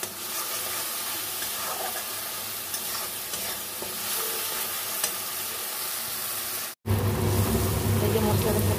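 Spice paste for Kashmiri aloo dum fries in a pan, a steady close sizzle under continuous scraping stirs, with a brief break near the end before the frying resumes as loud as before.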